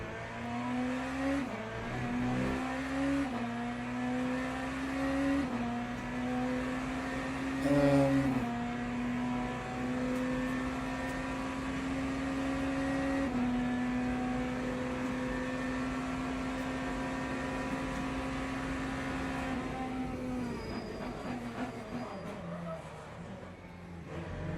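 Race cars lapping at Le Mans 24h in a racing video game, a steady sustained engine drone with gear-shift pitch changes and a rev blip, near and continuous, fading slightly toward the end.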